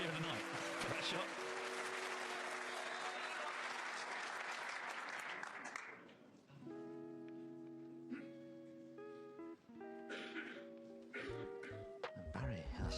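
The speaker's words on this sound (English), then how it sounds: "Biggest cheer of the night for that shot." A snooker crowd at the Crucible applauds and cheers loudly for a shot for about six seconds, then the clapping fades and sustained musical tones and other sounds follow.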